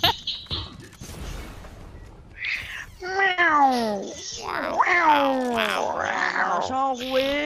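Cats meow in a French-language video game session, a series of loud, wavering, drawn-out cries rising and falling, stacked closely together after a few seconds of clicks and background noise, with players talking in between.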